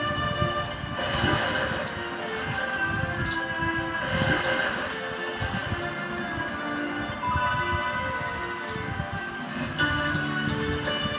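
A train in the video game Dude Theft Wars rumbles past steadily with clanking wheels and a sustained horn-like tone, loud and continuous for the whole stretch.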